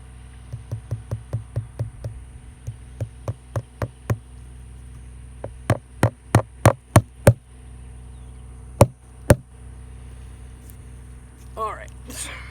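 A tiny hammer taps nails into place during a Texas inlay bark graft on a tree: about twenty sharp, close knocks arrive in quick runs and scattered pairs over a quiet background.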